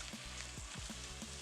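Vegetables and long grain rice sauté in a pan for a Caribbean holiday dish, giving a soft, steady sizzle with a few faint stirring scrapes, quiet and close.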